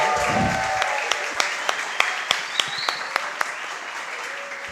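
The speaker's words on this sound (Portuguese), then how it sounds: "eu quero que vocês recebam eles com uma salva de palmas" A church congregation welcomes a couple with applause during a worship service, a brief round of clapping with distinct individual claps at a steady beat, fading after a few seconds.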